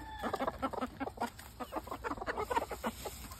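Chickens on a homestead clucking close by, a busy run of short, overlapping clucks and murmurs from several birds.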